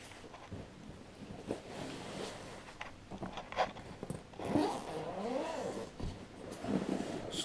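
Zipper on a rucksack-style DJI Phantom 2 drone backpack being pulled open, several short scraping zips with rustling of fabric, quiet and close.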